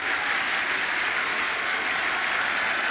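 Memorial Stadium football crowd roaring on third down and long during a 1993 Oregon vs. Cal game, a steady wide wash of cheering and noise from a distant mass of fans, unbroken and loud.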